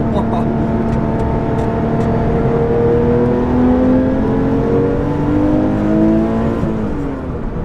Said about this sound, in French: Oh, ce son rétrogradage.